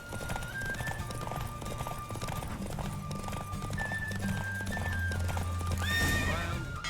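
A horse galloping in a race in The Witcher 3, with hoofbeats and a loud neigh near the end, heard over a steady music and ambience bed.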